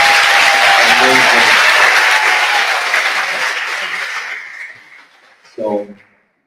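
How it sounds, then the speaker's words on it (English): Audience applause at a summer jazz camp concert, a dense wash of clapping that holds steady and then thins and fades out, followed by a short burst of speech at the end. "let's give another round of applause for the Jazz Arts team"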